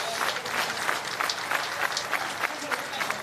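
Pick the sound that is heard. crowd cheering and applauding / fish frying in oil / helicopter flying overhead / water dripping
crowd cheering and applauding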